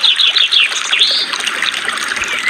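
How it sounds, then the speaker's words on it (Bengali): Thick stream of water pouring from a first-floor drainpipe mouth, falling steadily and continuously at moderate loudness, with a hissing, splashing texture and no talk. "দোতলার নলের মুখ দিয়ে পড়তে লাগলো জল, যেমন উপরের বারান্দাতে কেউ হাত পা ধুয়ে জল পড়ে"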